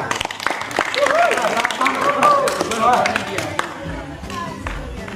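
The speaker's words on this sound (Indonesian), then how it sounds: "Tepuk tangan untuk kelompok 4." Scattered clapping from a classroom group for a student group, mixed with children's voices and chatter, fairly close and lively, fading somewhat toward the end.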